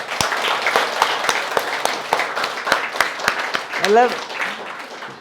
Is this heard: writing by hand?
no